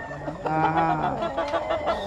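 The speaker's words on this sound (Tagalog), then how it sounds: "Pinapakain muna nila yung manok bago nila ipadala sa buyer" Battle stag roosters at a gamefowl farm clucking and calling in a brief, close burst, with overlapping throaty vocalizations over a steady background hum.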